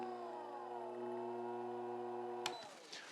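A Fellow Ode coffee grinder motor whirs with a steady harmonic whine, then drops in pitch as it slows down. The motor is heard close and fairly quiet, and a small clack sounds as it stops.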